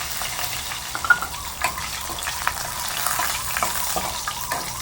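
Curry with curry leaves, cardamom, cinnamon and peppercorns being stirred in a pan, a soft steady simmering sizzle with light scraping stirs throughout.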